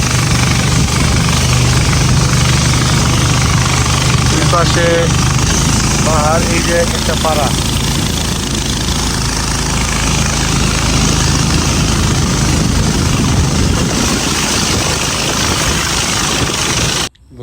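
A riverboat engine drones loudly and steadily as the boat pushes upstream on the Matamuhuri river through hilly forest, a continuous low rumble running throughout while someone talks over it.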